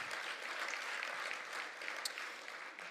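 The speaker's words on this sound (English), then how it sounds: "that deserves some applause" An audience at a City of Lancaster State of the City address breaks into steady, dense applause, a broad wash of clapping that holds for the whole stretch and fades slightly near the end.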